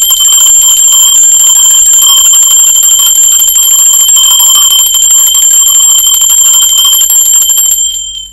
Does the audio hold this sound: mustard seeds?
no